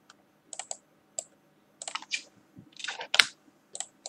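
Sharp clicks in short clusters, close and fairly faint, from a computer mouse and keyboard during a zombie train game session, with brief gaps of quiet between bursts and no talking.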